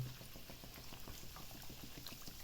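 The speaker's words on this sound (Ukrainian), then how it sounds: "кілограм м'яса, і ми його заливаємо газованою водою" Sparkling water fizzing and pouring over a kilogram of chopped meat pieces, a faint, steady hiss with a soft crackle of bubbles, close and continuous.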